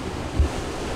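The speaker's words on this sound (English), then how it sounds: "And we are bashing into very short waves." A sailing yacht bashes into short waves in gusting wind, giving a roaring rush of wind and water with one heavier thump partway through, loud and close.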